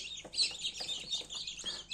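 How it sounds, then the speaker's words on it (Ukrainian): Spanish-breed chicks chirp inside a home incubator as they peck out of large white eggs, their high, repeated peeps overlapping steadily at close range with no voices. "Вони у нас ось тут лежать, курчатка ось прокльовуються."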